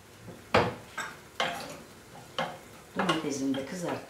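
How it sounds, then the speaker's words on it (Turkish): Tomatoes fry in a pan under a faint sizzle, with five sharp scraping stirs at a steady rhythm and a longer rattling scrape at the end as someone talks. "Domatesini de kızartma."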